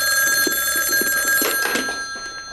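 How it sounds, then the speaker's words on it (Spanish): A telephone rings with a loud, sustained electronic bell tone, close and steady throughout, alone without talk. "Es una llamada para Clara."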